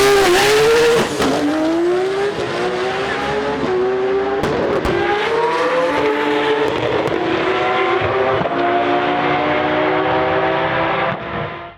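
A manual Nissan GT-R R33 drag car at a GT-R festival in Australia roars through rising gear pulls, its loud engine climbing in pitch with sharp shift breaks, near and dominant, fading out at the end.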